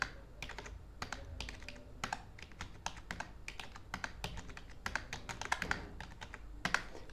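Numbers are typed on a computer keyboard into an Excel spreadsheet, giving a steady, close patter of quiet key clicks with short pauses and a few heavier keystrokes, with no voice over them.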